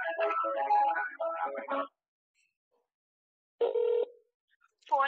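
A single ringback tone sounds on a phone line while a call transfers to HDFC Securities customer care, after a stretch of Hindi talk and silence, with a voice starting right after.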